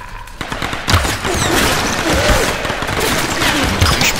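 Sustained gunfire from enemies shooting at the player in the Tomb Raider geothermal caverns, rapid bursts of shots and impacts crackling continuously and loudly from start to finish with no talk.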